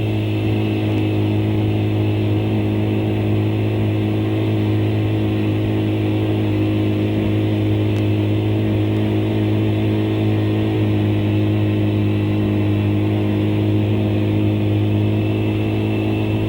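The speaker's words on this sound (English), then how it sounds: "With John on the Norton, weave is coming in at 85 miles per hour" A Norton motorcycle riding at about 85 miles per hour, a steady, loud engine drone with a strong low hum holding level throughout, with no voices.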